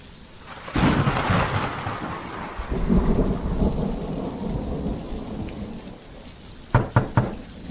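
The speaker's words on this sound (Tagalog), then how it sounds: "hindi namin inaasahan ang pagbuhos ng malakas na ulan" Heavy rain pours steadily with low rumbles of thunder, then several sharp knocks sound near the end.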